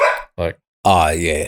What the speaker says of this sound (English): Sorry about the dog being a pain there.